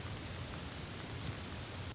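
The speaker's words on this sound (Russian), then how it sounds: "Вот это вот записи птенцовых криков соловья-красношейки." Siberian rubythroat nestlings giving three high, thin begging calls in a row, the last one longest and loudest, over quiet background hiss.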